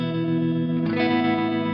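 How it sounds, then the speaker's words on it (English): An electric guitar played through a Zoom G3XN modelling a Fender Twin Reverb with its tremolo effect, a sustained clean chord pulsing in volume, then a fresh strum near the middle. "switching it on basically gives me that tremolo sound"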